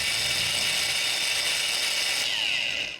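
A DongCheng DCSM08-100 cordless brushless angle grinder, single-speed with no variable control, runs freely at full speed with a steady high-pitched whine and motor drone close by, then starts winding down at the very end.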